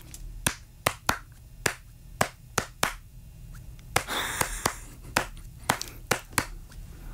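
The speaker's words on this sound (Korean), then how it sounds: "그럼 제가 박수를 지금부터 치겠습니다" A single person claps the rhythm of a song by hand, giving about fourteen sharp, close claps in an uneven pattern with short pauses between them. There is a brief breathy rustle partway through and no talking.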